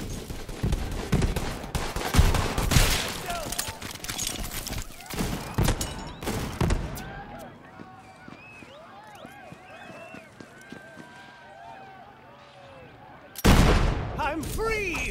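Bursts of gunfire from the shooter video game Borderlands 3 crackle loudly in the opening seconds, easing into quieter game sound effects, then another loud burst near the end.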